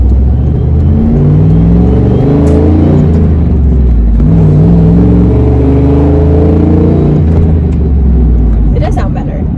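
Car engine revving through a DIY budget custom exhaust, a loud, steady, deep rumble with rises and falls in pitch heard close up, with speech faintly underneath.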